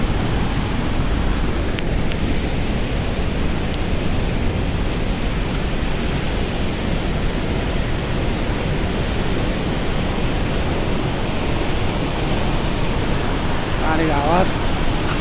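Water thunders through the open gates of the Marsyangdi hydropower dam, a loud, unbroken roar filling the whole stretch, with a brief voice surfacing near the end.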